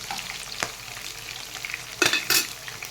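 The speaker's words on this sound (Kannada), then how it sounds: "ಸ್ವಲ್ಪ ಫ್ರೈ ಮಾಡ್ಕೊಳ್ಳಿ." Green chillies frying in a pan for lemon rice give a steady close sizzle, with stirring scrapes and two louder clatters near the end; no talking.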